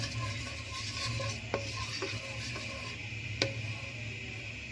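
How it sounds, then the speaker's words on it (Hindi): Cumin seeds sizzle softly in hot oil in a pan under a low steady hiss, with a few sharp spoon taps against the pan as they are stirred; faint and close, no talk. "इसके बाद हम इसमें डालते हैं सफ़ेद ज़ीरा। इसको ज़रा मिक्स करते हैं"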